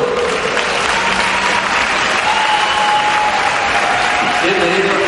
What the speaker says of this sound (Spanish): Por supuesto con este aplauso.